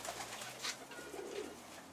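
A pigeon coos softly nearby, a few low murmuring calls amid faint background noise, with no one speaking.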